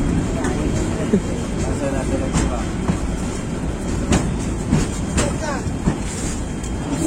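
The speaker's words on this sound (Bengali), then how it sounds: "ট্রেন থামলো" A Sagarika commuter local train on the Chandpur–Chattogram line rumbles along with a broad, steady roar and intermittent rattling clicks and clanks from the carriages, heard from on board amid background crowd noise.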